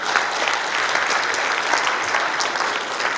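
Loud, dense applause from a seated audience at a Korean book launch event as a former official is introduced, steady clapping throughout with no pauses.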